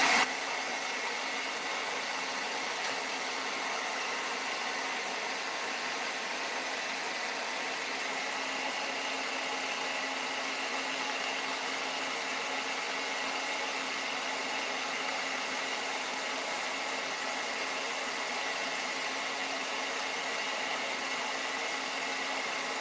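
A hair dryer blows on a freshly painted snowman canvas to dry the paint, giving a steady, close, unbroken whooshing roar that holds evenly for the whole stretch with no other sounds.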